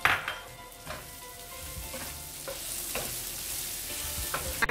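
Onion and garam masala fry in oil for a chicken tikka biryani, producing a steady close sizzle broken by rhythmic stirring scrapes and a few utensil knocks, without any talking.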